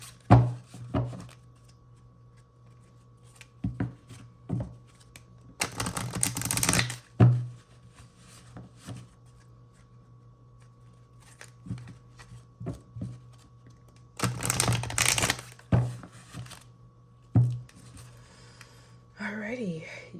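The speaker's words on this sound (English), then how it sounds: "I'm going to shuffle these cards." Bursts of tarot card shuffling, riffled in a few loud rustling runs with softer taps and handling sounds between, close to the listener over a low hum.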